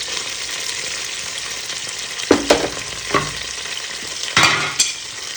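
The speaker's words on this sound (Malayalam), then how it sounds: "ഇതുകൂടി ചേർത്ത് നമ്മൾ ഇളക്കിടുക." Finely chopped ginger frying in a pan for a pickle, a steady close sizzle with several scraping, clattering strokes of a spoon stirring through it; no voices.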